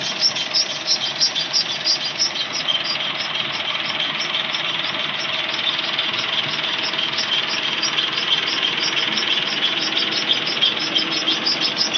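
A tractor engine idles low and steady, a constant rumbling chug with no breaks, close and fairly loud.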